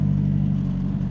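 Mitsubishi Evo X GSR with a Precision 6262 turbo kit and flex fuel tune, its engine giving a steady, close, loud low rumble in one brief sustained burst.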